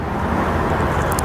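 A talking parrot imitates a car engine starting, giving a loud, close, continuous rumbling, whooshing noise that lasts the whole short moment. The engine sound is made by the bird's voice.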